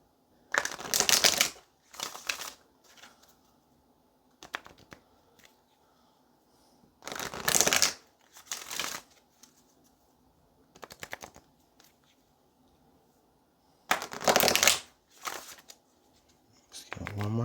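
Tarot cards shuffled in several short bursts, each a crisp riffle, separated by quieter gaps where a person speaks softly.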